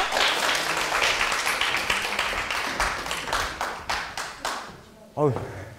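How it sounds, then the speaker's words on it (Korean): Students at a science lecture on information security applaud to welcome the professor. The rhythmic clapping is dense and close, then thins into sparse claps before a voice cuts in at the end. "그러면 박수로 교수님 강연 한번 들어볼까요? 박수 부탁드립니다."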